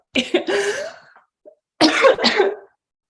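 Two bouts of harsh, close coughing, each a cluster of several rough coughs, separated by a short quiet pause.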